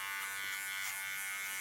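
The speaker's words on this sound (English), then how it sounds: "Use my clipper as a comb" An electric hair clipper buzzes steadily and close up during a nape shave at a barbershop, a continuous high-pitched motorized whine with no pauses or talk.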